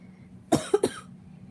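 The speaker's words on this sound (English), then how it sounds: "I've been dealing with this cough for a good while now" Two short, sharp coughs in quick succession, close by, against a quiet background.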